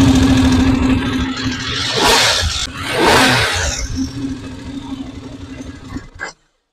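A motorcycle engine freshly filled with 20W-50 oil runs close by at a steady idle, swelling in two brief revs before it cuts off abruptly near the end.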